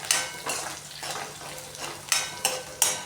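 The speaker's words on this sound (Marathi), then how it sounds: "थोडंसं जिरं, त्यानंतर कढीपत्ता टाकणार आहोत आणि चांगलं मिक्स करून घेणार आहोत." Cumin and curry leaves stirred with a spoon in a pan for poha, bringing scraping, clinking strokes with a faint sizzle underneath and a few sharper taps near the end.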